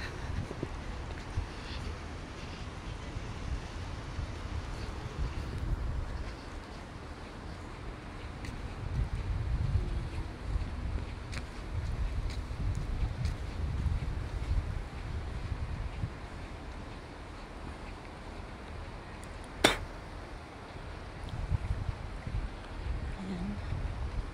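Steady outdoor wind rumbles and buffets the microphone throughout, with low gusty roar swelling and easing and one sharp click near the end.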